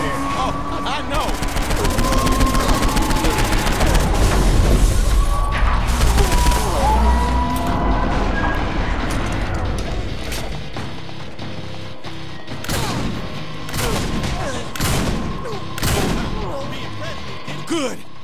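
Gunfire in the video game Saints Row 4, dense chaotic shooting with crashes and mechanical clatter, loud at first and then breaking into scattered separate shots, with voices talking over it.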